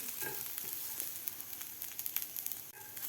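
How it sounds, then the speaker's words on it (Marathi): Grated coconut roasting with onions in a pan for Kolhapuri misal, a steady close sizzle and crackle with faint stirring scrapes, no voices. "आपल्याला एक मिनिटभर कांद्याबरोबर खोबरं भाजून घ्यायचं आहे"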